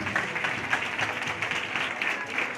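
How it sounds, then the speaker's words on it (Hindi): A congregation claps at a New Year prayer meeting, a soft, continuous patter of many hands heard at some distance for a couple of seconds. "सब लोग तारीफ करो, ताली बजा के तारीफ करो।"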